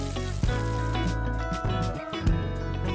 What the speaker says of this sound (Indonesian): Setelah halus, disiram minyak mendidih.